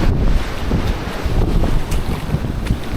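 Strong wind buffets the microphone in rough gusts over a continuous roar of open water, with occasional splashes and creaks.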